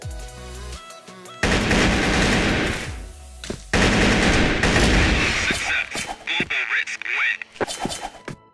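Heavy automatic gunfire in the CrossFire shooter game, loud sustained bursts with brief gaps, then scattered shots and game effects toward the end.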